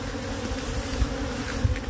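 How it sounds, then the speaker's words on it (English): Swarm of aggressive killer bees buzzing loudly and continuously all around at close range, a dense droning hum with brief thumps of movement against a protective suit. "These are nasty bees."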